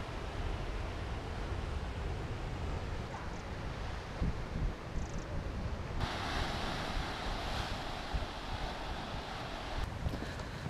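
Surf washing onto a beach with gusty wind buffeting the microphone, a continuous loud roar that swells louder and brighter partway through.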